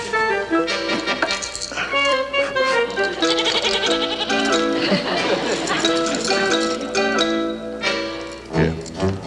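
Goat bleats mixed with music and voices, wavering cries over a busy, steady backing that fills the whole stretch.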